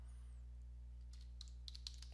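Typing on a computer keyboard during data entry, a few faint, quick key clicks near the end over a steady low electrical hum, with no talking.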